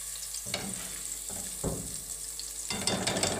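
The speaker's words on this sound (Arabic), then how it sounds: "نقلو الثوم مليح" Garlic frying in a pan, a soft steady sizzle with faint crackles and occasional stirring scrapes, quiet and close, no voices.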